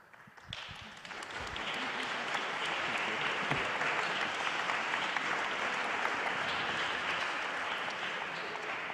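An audience at a French debate on remote work, inclusion and the economy breaks into sustained applause. It swells quickly and holds a steady, dense roar of clapping hands to the end.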